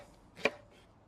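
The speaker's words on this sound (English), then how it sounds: "we're just going to cut them into nice discs" A knife cuts through a leek on a board into a thin disc, giving one short, crisp chop up close against a quiet background.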